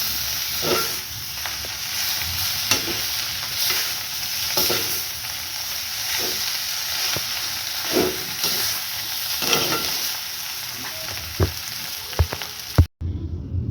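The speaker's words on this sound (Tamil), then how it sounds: "குழம்பு விட்டுட்டு வடிவாக புரட்டி விடுவோம்." Steady sizzling of a prawn puttu stir-fry with gravy in a pan, with regular scraping strokes of a spoon turning it over, close and continuous, no talking.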